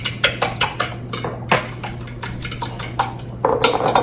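A spoon or utensil stirs black bean brownie batter in a bowl, giving repeated clinks and scrapes at an irregular rhythm, close up, with a steady low hum beneath.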